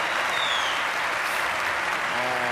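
A theatre audience at a live comedy show claps in dense, sustained applause, loud and even throughout.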